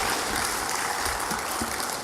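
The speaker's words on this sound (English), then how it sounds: "a lusty round of applause" An audience at an outdoor land certificate distribution ceremony in Trinidad claps in a dense, steady round of applause, with no voices rising above it.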